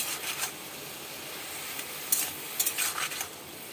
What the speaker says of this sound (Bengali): এবার আমি ঝিঙেগুলো দিয়ে দিচ্ছি